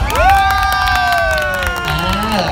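A crowd of supporters at a Loy Krathong festival pageant at a Thai temple cheers and screams, a loud, sustained wave of high shrieks and shouting filling the whole moment.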